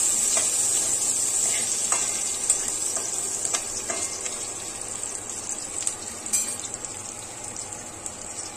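Steady close sizzling of garlic paste and chopped garlic frying with biryani spices, broken by scattered light clicks and scrapes of stirring, with no voices.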